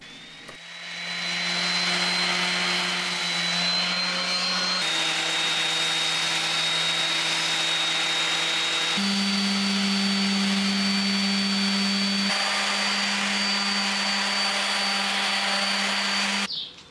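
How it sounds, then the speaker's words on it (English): Wooden cabinet fronts from an old DVD cabinet being power-sanded to 340 grit, a steady, loud whining hum running continuously for about fifteen seconds, with brief shifts in pitch as the sander moves. "I tidy up the edges and sand the fronts to"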